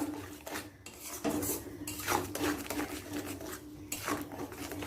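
A spoon scrapes and clinks in a pan while yogurt-mustard gravy is stirred into onions for rohu fish curry, in repeated close strokes with metallic scraping and no talking.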